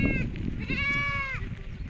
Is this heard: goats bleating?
yes